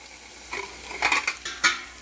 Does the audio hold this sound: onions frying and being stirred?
yes